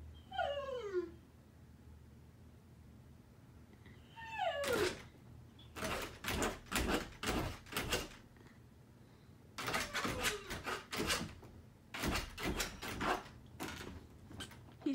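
A dog whimpers and yips at a locked door, then nudges and rattles it with its nose in quick repeated knocks and scrapes, close by in a quiet indoor room.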